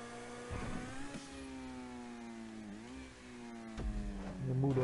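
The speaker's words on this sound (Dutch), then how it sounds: "Vrachtwagen." A truck engine in GTA V drones at a steady pitch, rising and dipping slightly as it holds a long continuous note, fairly close and alone without talk.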